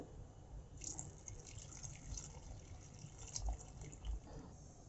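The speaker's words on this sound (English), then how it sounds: "I'm going to add some water along with this." Hot water pours steadily into a pot of Kerala sambar, a soft continuous splashing and trickle at close range, fairly quiet throughout.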